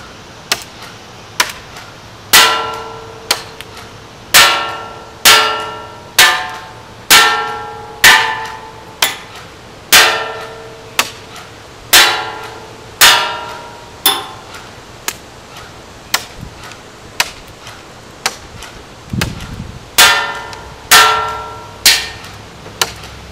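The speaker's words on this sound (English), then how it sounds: "I will be out there once again to shoot the target." Lancer Tactical M4 S-system airsoft rifle firing single shots at a target outdoors, about two dozen sharp, crisp reports in an uneven steady rhythm, close and loud, each shot standing alone with no talking.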